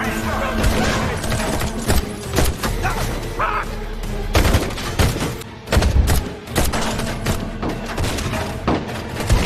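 Gunfire erupts in a film gunfight between soldiers, with dense bursts of loud shots and heavy booms piling up continuously over a rumbling action soundtrack.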